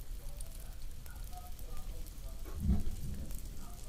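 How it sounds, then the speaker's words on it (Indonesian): Crispy pempek deep-frying in hot oil over a high flame, a steady crackling sizzle with a brief louder burst near the end. "ini goreng sebentar aja ya Ingat apinya pakai api besar, kemudian uh, minyaknya panas ya. Digoreng sebentar aja."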